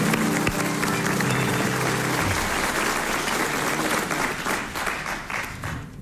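A studio audience applauds at a French radio quiz show, a dense, loud burst of clapping that holds steady and then slowly thins out toward the end.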